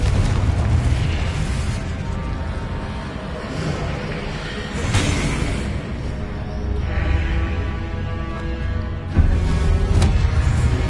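The Confringo spell in Hogwarts Legacy bursts with loud, rumbling booms that roll on over a dense, sustained din with several heavy swells.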